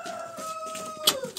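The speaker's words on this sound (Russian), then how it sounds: "вот такой маленький петух очень даже хорошо гоняет большого маркиза" A small rooster in a chicken coop gives a short, close, sustained crow-like call with a couple of sharp clucks near the end.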